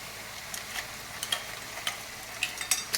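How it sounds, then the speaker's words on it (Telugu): Crabs and eggplant tossed into a pan of sautéed onions for Telugu crab curry give a steady, faint sizzle, broken by light stirring clicks and scrapes. "ఇప్పుడు ఉల్లిపాయ బాగా మగ్గింది కదండి, వంకాయలుని పీతలు వేసేస్తున్నాను."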